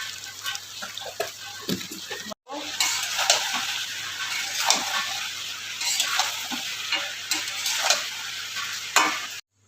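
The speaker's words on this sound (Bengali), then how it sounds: "একে ভালো করে আমি কষে নেব।" Mutton with cumin, coriander and roasted coriander powder is stir-fried for biryani, a steady close sizzle with repeated spatula scrapes and stirring knocks throughout, briefly cutting out once.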